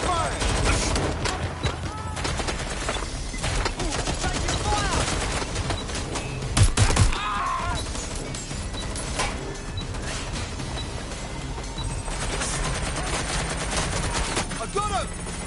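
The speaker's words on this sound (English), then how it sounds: "Look out! Taking fire!" Dense, continuous gunfire in a GTA game on PS5, rapid shots and bursts layered into a busy battle soundscape, with voices shouting over it.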